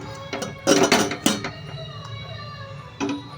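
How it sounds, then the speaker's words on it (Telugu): A pressure cooker lid is lifted off after cooking raw-mango dal, giving a few close metallic clanks and scrapes in quick succession, then a quieter clink a moment later. "ఇప్పుడైతే మూత అయితే తీసేసుకుందాం"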